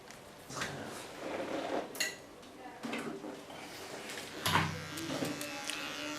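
A small Tondeo hair clipper buzzes in short, close bursts as it trims the neckline contour in a salon. Light clatter and faint background voices sit around it.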